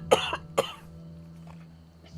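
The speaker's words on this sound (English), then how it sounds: "She is coughing a bunch" A woman who has been ill and vomiting coughs twice in quick succession, close and harsh, followed by quiet indoor background with a faint hum.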